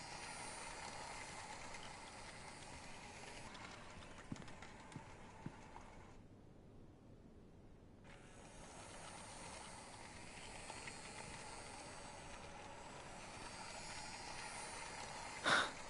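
Toy train from the Life is Strange 2 video game running on model tracks, a steady mechanical clicking and rattling that runs on and off with a short quiet gap midway, a few sharp ticks, no talking.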